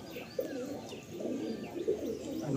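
Madrasi pigeons in a loft give steady, close soft cooing, several birds overlapping with occasional brief chirps and no talk.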